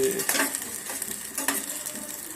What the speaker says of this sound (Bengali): ডিম ভাজা হয়ে যাচ্ছে